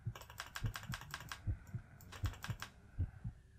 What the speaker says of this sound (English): If I just mash clicking right here.